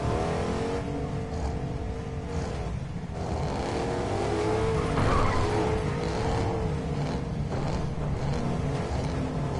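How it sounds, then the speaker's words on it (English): Racing trucks at a NASCAR Craftsman Truck Series event, the North Carolina Education Lottery 200, idling and rumbling on pit road, with engines droning and revving steadily near and far throughout. "Alright, stop moving your trucks on pit road."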